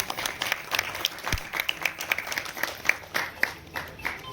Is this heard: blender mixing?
no